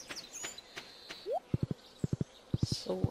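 Horse hooves in Stardew Valley clop in quick groups of three, crisp and close, among faint bird chirps and a few soft game-like tones.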